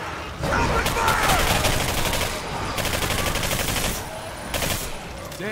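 Dense gunfire erupts in the Singularity video game, a continuous fusillade of rapid shots and bursts layered over game effects, loud and close throughout.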